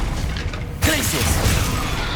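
Glacius ice spell cast in Hogwarts Legacy combat, a sudden bright crackling burst that breaks in after a quieter moment and carries on as a dense shimmering, rumbling battle noise with a voice over it.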